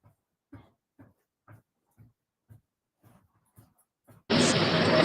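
A dog gives a series of soft, low grunting huffs at a steady pace about every half second, close and quiet, before a sudden loud burst of broadband noise takes over.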